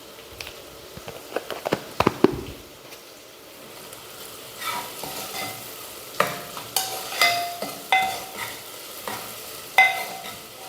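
Salted vegetable pieces for vegetable rice fry in hot oil under a soft, steady sizzle, punctuated by sharp clatters and repeated scraping stirs of a spoon against the pan.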